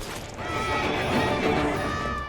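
A horse whinnies with a long, wavering neigh inside Assassin's Creed Syndicate, heard up close over clattering hooves and the game's background bustle.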